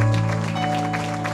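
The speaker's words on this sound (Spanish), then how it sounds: "s, Adolfo de León. La acompaña. Bienvenidos, que vengan los aplausos." Audience applause greets a couple arriving at a celebration, forming a dense, continuous wash of clapping with a steady tonal hum or music running underneath throughout.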